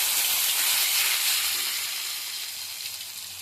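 Chopped tomato hits hot mustard oil in a pan with a loud, close, hissing sizzle that starts strong and gradually eases over a few seconds, with no voices.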